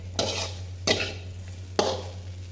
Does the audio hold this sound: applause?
no